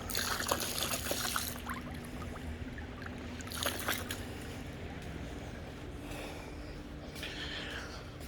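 Pool chemical glugging from a bottle into pool water near the jets, a steady close pour with brief splashy bursts, no talk over it.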